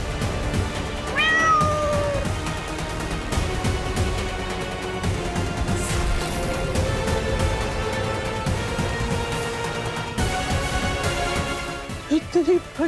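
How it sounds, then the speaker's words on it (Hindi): A large cat gives a clear meow early on, set against continuous dramatic background music that runs throughout. "इतनी बड़ी बिल्ली।"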